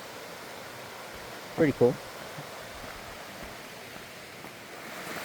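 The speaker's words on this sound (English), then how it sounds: "we're walking by this stream" A stream beside the Appalachian Trail during a 2024 thru-hike gives a soft, steady hiss of flowing water throughout, with someone briefly speaking over it.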